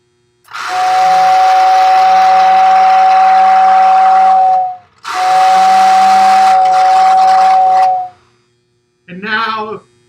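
Steam locomotive 2046 sounds its whistle in two long, loud, steady blasts, the first about four seconds and the second slightly shorter, followed after a pause by a brief final toot.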